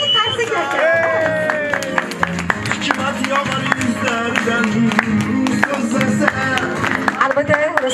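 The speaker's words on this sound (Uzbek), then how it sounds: "Tamomiy qarsaklar." An audience at a congratulation visit claps in scattered bursts of sharp hand claps under lively chatter and voices, close and busy throughout.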